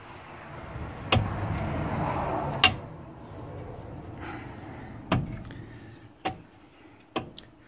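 Metal parts being pried off the brake assembly of a 1950 Dodge Coronet, several sharp clanks and knocks at irregular intervals over a low scraping rumble, close and fairly loud.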